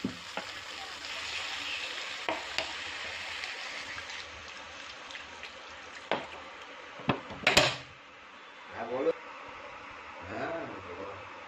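Water is poured into a pan of sizzling fried curry masala. A hissing fry is heard first, then a sharp louder burst as the water hits and a bubbling sizzle afterwards, with occasional talk nearby.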